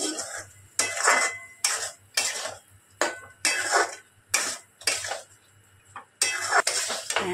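A spoon scrapes and knocks against a metal pan while pointed gourds are stirred with spices, in a rhythmic series of about a dozen loud scraping strokes over a low background hum; no voices.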